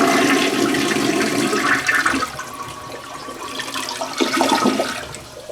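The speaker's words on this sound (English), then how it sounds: "Let's flush it." A Briggs 1.6 gallon (6 liter) per flush toilet in a hotel bathroom flushes close by with a loud rushing gush of water that drops to a quieter swirl, then surges again before tapering off.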